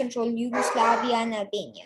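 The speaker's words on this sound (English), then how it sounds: "Oh, and if you can hear my dog just barking." Dog barking and yipping faintly in the background indoors, a few short calls partly masked by a person talking steadily in the foreground.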